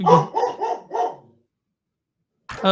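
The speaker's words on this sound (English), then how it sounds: "who let the dog out?" A dog barks four times in quick succession, close and fairly loud, followed by a second of silence before another short sound cuts in at the end.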